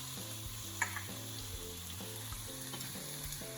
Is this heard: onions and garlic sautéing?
yes